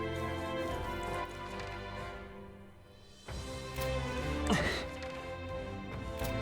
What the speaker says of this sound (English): it's still raining outside still